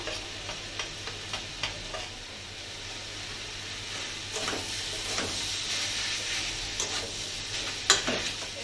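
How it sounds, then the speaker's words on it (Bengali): A banana flower mixture with green chillies, red chilli powder and spices fries softly in a pan while being stirred, quiet sizzling with light scraping taps of a spoon and a few louder stirs later on. "সব কিছু দিয়ে এবার ভালো মতন করে নেড়ে নেবো"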